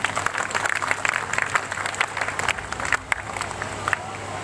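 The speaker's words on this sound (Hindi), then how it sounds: "बेटी के स्वागत के लिए सभी एक बार जोरदार तालियां बजाओ" A village crowd applauds to welcome the daughter Ankita from Barda village, Mahendragarh, a dense clapping that carries steadily before thinning briefly near the end.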